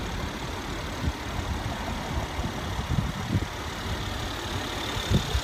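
A Mercedes-Benz GLE450 AMG or BMW X6 xDrive35i M Sport idling with a steady low rumble, close and continuous with slight fluctuations, and no talking.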